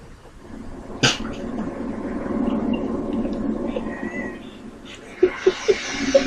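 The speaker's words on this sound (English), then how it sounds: "That's our cat." A pet cat meows, several short high calls near the end after a longer stretch of murmuring room noise and a sharp knock, with a game's soundtrack faintly underneath.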